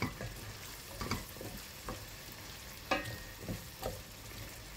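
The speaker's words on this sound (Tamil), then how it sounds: "இப்போ ஓரளவு வதங்கிடுது" Shallots sauté in a pan, a soft steady sizzle punctuated by regular spoon scrapes and taps as they are stirred, quiet and close with no talk.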